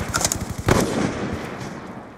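A grenade explodes in a Black Ops 2 match with a sharp, loud blast that rolls off into a fading rumble, preceded by quick bursts of rapid gunfire.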